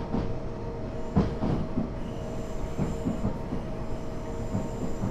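Class 377 electric train running in Train Simulator 2013 within a station at low speed, steady rolling rumble with faint rail clicks and a light hum, loud and continuous without speech.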